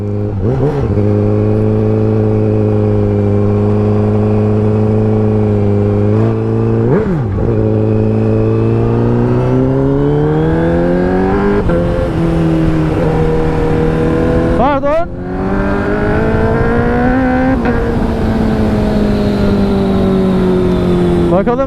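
Honda CBR1000RR SP motorcycle engine revving hard at night, loud and close, with sustained rising and falling pitch sweeps and a few sharp blips between long pulls.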